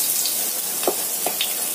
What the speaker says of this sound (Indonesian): kita panaskan sekitar 2 sendok makan minyak kita masukkan dulu bawang merah dan bawang putihnya